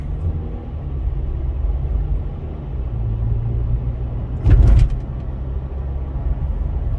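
A car out on a road test after a rear brake pad replacement gives a steady, loud low engine and road rumble from inside the cabin, with one brief louder thump midway.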